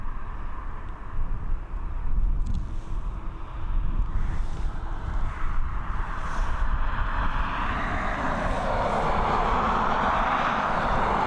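A Qatar Airways airliner at Dublin Airport produces a sustained rumbling engine roar, steady at first and then rising into a brighter, louder rush toward the end, with some wind buffeting.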